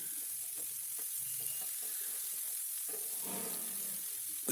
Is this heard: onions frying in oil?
yes